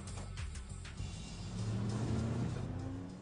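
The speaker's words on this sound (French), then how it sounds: "une voiture qui roule tout feu éteint et prend la fuite à la vue des gendarmes" A Peugeot 206 drives off with its lights off, fleeing gendarmes at night, its engine revving and rising in pitch as it pulls away, faint and distant with no talk.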